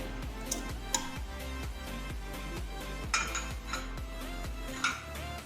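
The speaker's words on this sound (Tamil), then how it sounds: "கொய்யாப்பழத்தை இதில் போட்டுடலாம்." Guava pieces drop into a blender jar, giving several light clinks and knocks against the jar with small scattered taps close by and no talk.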